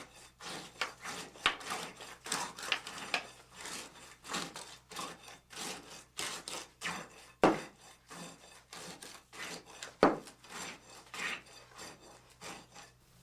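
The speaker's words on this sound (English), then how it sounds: "Strike off the top surface of the concrete with the tamping rod in a screeding and rolling motion." A steel tamping rod scrapes and rolls across fresh concrete atop a slump cone during a slump test, giving repeated close gritty rasping strokes in an uneven rhythm, with a couple of sharper knocks.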